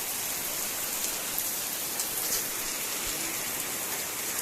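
Heavy rain pours steadily on a tribal hill area in East Godavari, a dense unbroken hiss of drops drumming on a surface, with no voices.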